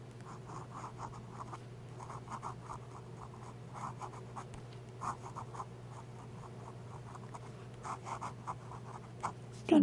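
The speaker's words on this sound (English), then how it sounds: "Let me do the upside down writing before I forget on this medium nib" Fountain pen with a medium nib writing upside down on paper, soft scratchy strokes in short repeated bursts, close but faint over a steady low hum, no talking.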